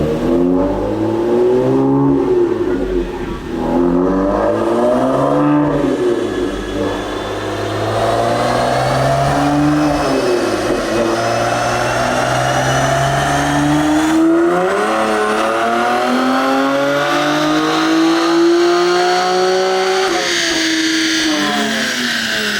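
A BMW F82 M4 with a six-speed manual on E85 fuel runs up on a dyno. The engine revs loudly through repeated rising sweeps with shifts between them, then climbs to a sustained high-rpm pull, with no talking.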